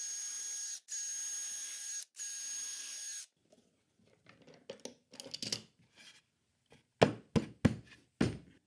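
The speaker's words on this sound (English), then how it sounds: "Then you just drill your holes like you did with the other jig." A power drill bores dowel holes through a JessEm jig in wood, with three whining bursts of drilling followed by scattered clicks, taps and scraping handling noises up close.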